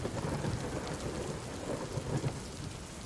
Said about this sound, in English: A boom of thunder startled them